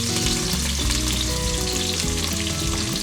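Ginger and roughly chopped onions dropped into golden-brown garlic frying in a pan for green masala prawn pulao, giving a loud, continuous close sizzle with no talk.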